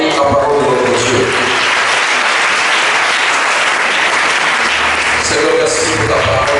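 A church congregation bursts into sustained, loud applause that fills the room evenly from start to finish, with scattered voices mixed into the clapping.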